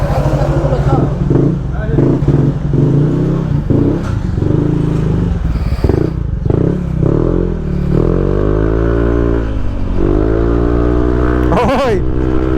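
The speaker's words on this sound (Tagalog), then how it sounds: "tara testing natin tong motor na to" A motorcycle engine revs and accelerates during a test ride, loud and close, with rising and falling pitch sweeps, some clatter, and a person talking under the engine noise.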